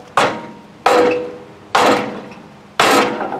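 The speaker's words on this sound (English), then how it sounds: "I'm using a sledgehammer, so it's kind of hard to control." A sledgehammer strikes an aluminum trailer during corrosion repair, four heavy metallic blows spaced under a second apart, each ringing briefly before fading, close and loud with no talk.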